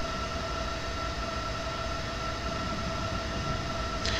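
Train rolling through the Leipzig station area over many double slip switches in Train Simulator 2020, a steady loud rumbling drone with sustained humming tones throughout, no voices.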